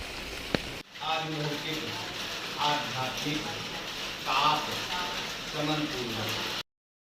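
Rain falling on a walk to a temple during the monsoon, a steady patter of drops heard beneath a voice talking throughout.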